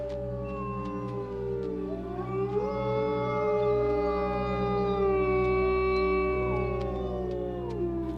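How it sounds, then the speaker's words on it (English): Wolf pack howling in grief, several long overlapping mournful howls rising and sliding in pitch over a steady low background hum, sustained and moderately distant. "the pack will roam in figure-8 patterns, searching and searching and howling in a very sad way"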